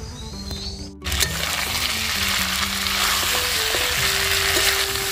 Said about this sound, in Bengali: মাংসটা আমার ভাজা হয়ে গিয়েছে